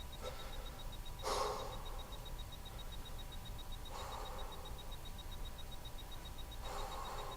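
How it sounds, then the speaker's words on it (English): Three short, breathy inhales or exhales spaced a few seconds apart during a foam-roller stretch, soft and close over a faint steady background hum. "you want to take in 3 deep breaths in and out"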